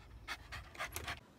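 A happy dog pants in short rhythmic bursts, about five quick breaths close to the mic, with no other sound around it.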